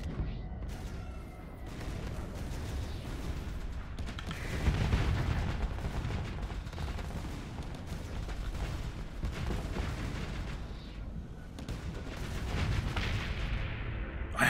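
Ship guns and missiles fire nonstop in the space combat game Starsector, a dense rumbling barrage of shots and blasts that swells slightly at moments and never lets up.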